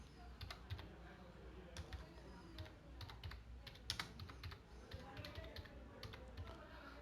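Keys tapped on a computer keyboard, a quiet irregular patter of clicks and short bursts over faint room hiss, with no talk.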